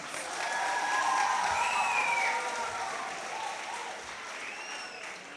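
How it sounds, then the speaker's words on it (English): An audience at a preparatory school graduation ceremony applauds steadily in a large room, a soft, sustained patter of clapping with a few faint whoops, fairly distant and gently fading. "I think we deserve a round of applause"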